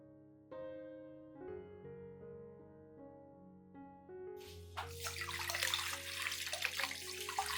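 Water runs over rotten orchid roots during rinsing, a close splashing tap stream that starts suddenly midway and continues loud and steady, preceded by soft tonal background music.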